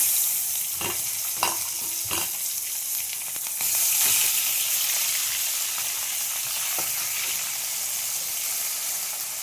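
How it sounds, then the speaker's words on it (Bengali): Pieces of pakal (spiny eel) fish frying in a hot pan give off a steady, close sizzling hiss, broken early on by a few sharp clinks and stirring scrapes. "এইভাবে সব মাছগুলো ভেজে নেবো"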